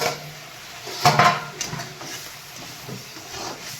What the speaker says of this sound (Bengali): আমি ঢাকনাটা খুলবো